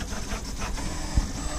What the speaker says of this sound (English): as you can hear this noise, it's coming from the 3D printer. I'm printing another part for the car